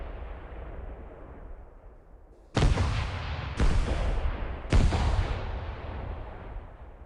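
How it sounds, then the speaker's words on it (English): Fireworks from the Minefield arcade game on a July 4th app go off in three sharp, booming blasts about a second apart. Each bang is loud and broadband with a short rumbling tail, over a steady background hiss and no speech. "Tap quickly to light fireworks."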